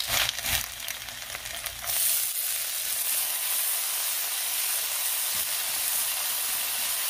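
Ginger, garlic and fermented black beans stir-fried in hot oil beside pork ribs and taro, opening with a few scraping stirs before settling into a steady, close, bright sizzling hiss.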